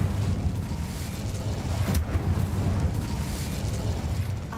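Incendio fire spell cast in the video game Hogwarts Legacy, a sustained roaring, crackling burst of flame with a sharp whoosh near the middle, loud and close, no speech over it.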